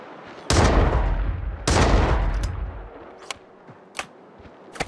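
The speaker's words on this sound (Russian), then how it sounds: "А, это дробовик." Shotgun fire in the video game GRIT, two loud close blasts about a second apart, each with a decaying boom, followed by a few sharp fainter clicks and handling sounds.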